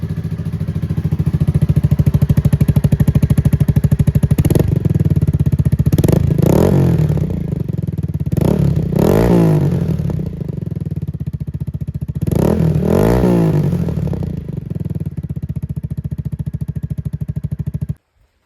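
A Honda Grom motorcycle engine with its stock silencer idles loudly up close, rising into several sharp revs with a throaty exhaust note before cutting off abruptly at the end.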